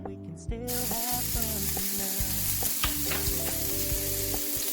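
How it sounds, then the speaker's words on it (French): Onions frying in a pan with a little oil, a steady loud sizzle running throughout, broken by occasional stirring scrapes and clinks of a utensil against the pan. "Je réserve l'omelette et je remets la poêle au feu. Je vais ajouter les oignons."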